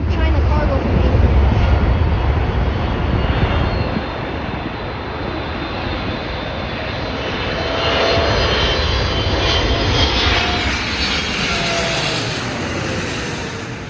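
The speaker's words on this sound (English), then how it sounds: "Boeing 777-F something." Air China Boeing 777 freighter cargo jet passing near O'Hare Airport, a loud roaring engine rumble that slowly fades and shifts pitch as it moves away.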